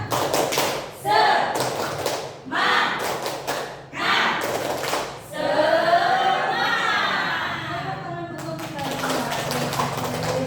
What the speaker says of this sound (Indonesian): Kemudian biar semangat, kita tepuk semangat dulu ya.